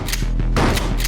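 Rapid gunfire in a video game, a dense burst of several quick shots close and loud with no talking.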